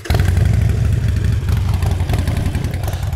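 A Harley-Davidson Iron 1200 with a Vance and Hines exhaust fires up and runs, a loud, close, steady low rumble with clattery pulsing throughout.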